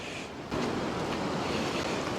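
Ocean surf rolls in on a beach at Broch, Fraserburgh in Aberdeenshire, a steady broadband wash that swells louder halfway through as a big roller breaks, with wind noise on the microphone.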